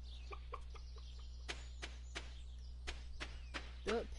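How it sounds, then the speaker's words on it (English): Chickens cluck in Stardew Valley, a series of short, faint clucks and bursts spread across a few seconds over a low, steady game hum. "My chickens sound pissed."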